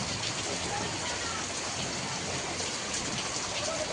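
Rain falling steadily outside a house, a dense, even patter and hiss that continues without a break, with no clear talk over it.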